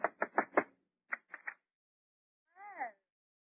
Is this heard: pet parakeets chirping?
no